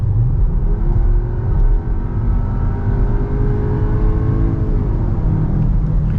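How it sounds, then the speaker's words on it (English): Sustained full-throttle acceleration from a 2022 Skoda Kodiaq RS TFSI engine and exhaust on the autobahn: a loud, continuous rumbling drone that climbs steadily in pitch and runs without a break. "But I floor it now."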